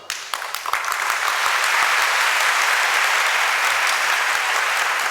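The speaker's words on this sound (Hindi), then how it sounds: "ताली बजाने वाली बात थी तो बजा तो जोर से" Audience applause during a Jain sermon, starting with a few scattered claps that swell quickly into loud, sustained, dense clapping from a crowd.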